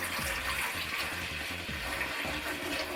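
Water pours out of a container while rinsing propolis, in a steady gushing splash, continuous and fairly close, with a hollow sloshing quality.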